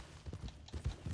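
Soft, muffled horse hoofbeats in Red Dead Redemption 2 clop in a quick uneven rhythm, faint and brief.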